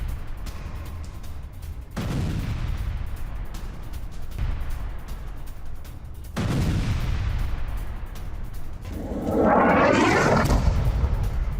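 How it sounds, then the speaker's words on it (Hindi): Airstrike footage from Gaza carries distant booms and explosion blasts at intervals, with a louder roaring burst near the end over steady background rumble. "गाजा में बमबारी का ये वीडियो आपके सामने।"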